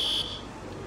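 A sauna alarm sounds a short, shrill electronic buzz that cuts off after a fraction of a second, leaving faint room noise.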